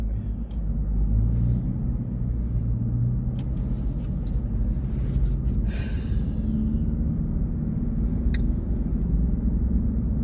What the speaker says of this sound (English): Why is there so much traffic out here today?